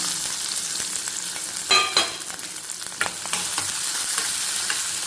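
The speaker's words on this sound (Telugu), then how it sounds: "సో పోపు అయితే వేగింది ఇందులో నేను ఆనియన్ పచ్చిమిర్చి వేసుకున్నాను" Sliced onion and green chilli sizzle in hot oil after the tempering, with a burst of frying when they hit the pan, then steady crackle and occasional scraping stirs, close and fairly loud.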